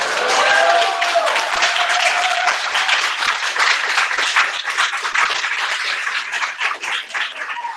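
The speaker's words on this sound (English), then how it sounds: "another round of applause for Chairman Omali Yeshitela." An audience at the 2017 USM National Convention breaks into sustained applause, dense clapping that stays strong throughout, with a few raised voices in the crowd.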